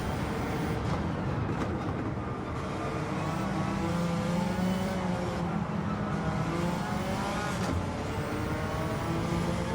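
A Suzuki Escudo race car in Gran Turismo 7 accelerating hard on track, with a loud, continuous engine roar rising in pitch through the gear.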